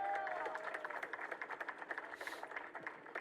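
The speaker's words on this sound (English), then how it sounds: "Big round of applause for Ricky Riverhawk." Scattered applause and cheering from a baseball game crowd after a mascot throws a first pitch, fairly distant, with rapid clapping under faint voices and a public-address voice at the start.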